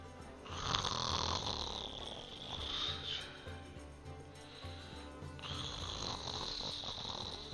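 A voice imitates a sleeping character's snoring during a tabletop fantasy game session, with two or three long, drawn-out rasping snores, close and fairly loud, and no other talk.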